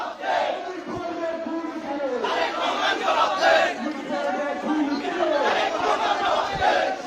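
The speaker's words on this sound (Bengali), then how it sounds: "মিটফোর্ডে খুন কেন, তারেক রহমান জবাব দে, সেই স্লোগানে কিন্তু উত্তাল হয়ে পড়েছে ঢাবির হলপাড়া" Students at the Dhaka University residential halls chant protest slogans in unison, a loud, rhythmic crowd chant repeating in waves with shouted voices overlapping.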